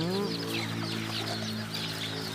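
Bantam chickens clucking while perched, close soft repeated clucks over a steady background hum.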